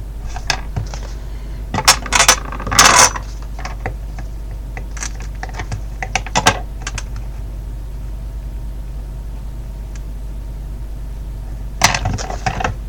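Scissors cutting around a printed paper image for a vintage card, sparse crisp snips and rustling bursts in short clusters over a quiet background hum.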